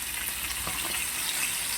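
Pieces of pomfret fish fry together in a pan with a steady, close hiss of hot oil and one soft clink partway through.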